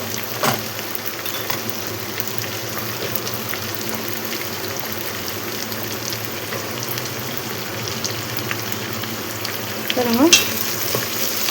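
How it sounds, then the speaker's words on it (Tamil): Mixed vegetables such as cluster beans, chow chow and potato sizzling loudly in a pot for one-pot sambar rice, a continuous close frying hiss with stirring scrapes and a brief clatter near the end. "ஒன்றா போட்டு ஒரு வதக்கிடலாம்"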